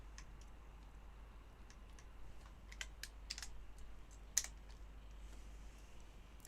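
Quiet typing on a computer keyboard, with scattered light key clicks and a few sharper taps over a low steady hum.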